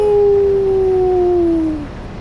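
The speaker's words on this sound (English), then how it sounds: "Get a big Wolfpack howl." A wolf howl played as a livestream alert sound effect: one sustained, loud howl that slides slowly downward in pitch for nearly two seconds, then fades out, with no talking over it.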